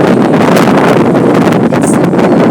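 Strong wind blowing outdoors in Glenview, a loud continuous roar buffeting the microphone without letup for the whole stretch.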